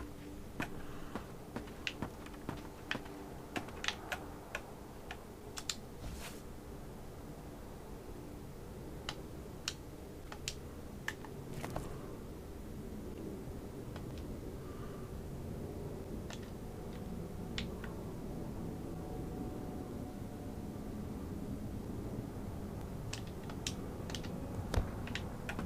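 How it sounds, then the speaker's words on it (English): An old typewriter in the video game Open Roads clacks through a run of sharp, irregular keystrokes, clustered in the first half and sparser later, over a steady low background hum. "Oh, it looks like an old typewriter."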